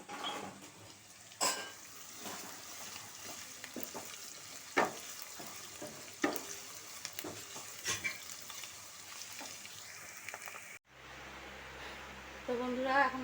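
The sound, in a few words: meat frying in a pot with onion, ginger, garlic paste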